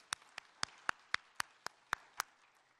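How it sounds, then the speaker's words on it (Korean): A church congregation at an early-morning special prayer service gives a few sparse, sharp claps, about nine spaced evenly over a few seconds, quiet and somewhat distant with no voices. "하나님 앞에 영광의 박수로 같이 한번 올려드립니다."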